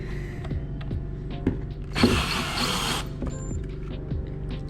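A power drill briefly whirs for about a second, removing the taillight trim screws on a Toyota GR86 during an aftermarket taillight install, under a steady background hum.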